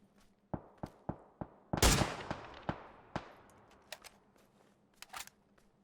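Gunfire in the PUBG battle royale video game: a run of sharp, separate shots at uneven intervals, one loud close blast and then quieter distant cracks, with no talking.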